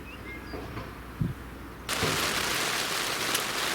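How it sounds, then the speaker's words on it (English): Rain begins suddenly in a garden and turns into a steady, hissing patter that carries on evenly, with a faint thump just before it starts. "As you can probably hear, it's started to rain, which we need here."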